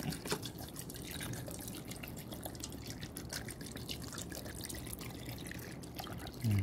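Water pours into a pot of tuna sinaing, a steady splashing, dripping trickle that runs close and continuous the whole way through, with a brief low thump at the very end.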